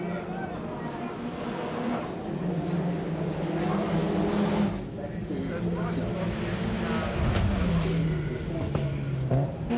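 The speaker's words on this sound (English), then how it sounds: "the little Mazda RX-7 making his way around, and he'll blast his way back onto that back straight very, very shortly" A Mazda RX-7 race car at the 1995 Surfers Paradise street circuit drones past with a rising and falling engine note, heard steadily under a commentator talking throughout.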